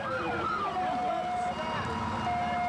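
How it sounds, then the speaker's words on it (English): A police car siren wails with rising and falling sweeps during a 1986 town parade, loud and close over crowd and street noise, with faint voices mixed in. "we hear those sirens"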